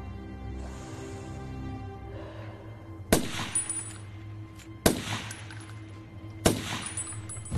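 Three sharp, loud gunshots ring out in a film scene with a sniper fighting enemy troops, evenly spaced about two seconds apart, each with a ringing, metallic tail over a low background hum.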